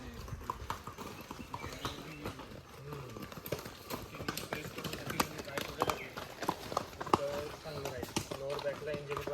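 Horse hooves clip-clop in a steady trotting rhythm, close by, while people talk over the top amid busy outdoor noise in the vehicle-free hill station of Matheran.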